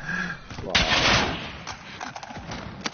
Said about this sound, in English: It's shooting through the wall trying to hit them.